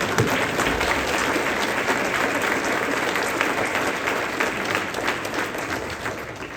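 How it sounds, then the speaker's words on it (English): An audience at a university IEEE semiconductor summit applauding, with dense, sustained clapping that fills the hall and eases off slightly toward the end. "I think what they deserve is a strong applause for whatever they did"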